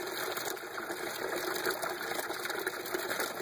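An ABS bell siphon firing and draining, a steady close rush of gushing water pouring through the pipe.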